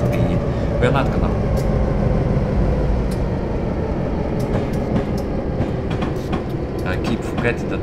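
A freight train in Train Simulator 2013 rolls along with a loud, steady, continuous rumble, with scattered metallic clicks and clatter over the top throughout.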